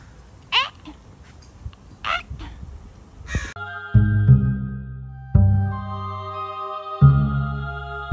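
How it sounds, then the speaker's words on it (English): Crows give three sharp, fairly near caws spaced over a few seconds outdoors, followed by sustained tonal music with no further calls. "These crows chase them off."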